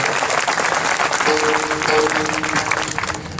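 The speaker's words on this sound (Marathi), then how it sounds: "एकदा या टाळकऱ्यांकरता आदरणीय महाराजांकरता टाळ्या वाजवा जोरात एकदम कर" An audience at a Marathi kirtan claps loudly in dense, sustained applause that carries on for several seconds and then tapers slightly at the end.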